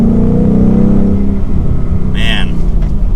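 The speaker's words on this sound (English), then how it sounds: "That exhaust, Mustangs sound the best." A 2021 Ford Mustang GT Premium with a manual gearbox rumbles through its exhaust while driving, a deep, steady engine note swelling slightly as someone talks over it close by.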